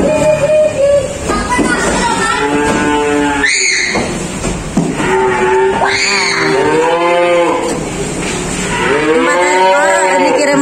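Simmental cattle at a cattle dealer's yard give several loud, drawn-out moos close by, one after another, with people talking in the background.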